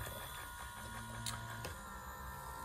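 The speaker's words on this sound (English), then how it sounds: "you can get a little look at the rotation mechanism and the pushing mechanism up there" Rotation and pushing mechanism of a homemade low-cost PVC ventilator with a bag valve mask, giving a steady mechanical whir and hum throughout, close up, with a couple of faint clicks.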